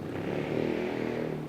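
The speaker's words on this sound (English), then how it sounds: "I hate scooters, they're so loud." A loud scooter engine drones steadily, close and sustained with a slight swell in the middle, alone without talk.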